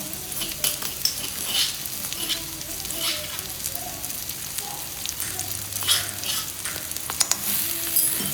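Oil sizzles steadily in a hot wok with onions, chili and garlic while a spatula scrapes and stirs, with occasional clinks of metal, close and continuous.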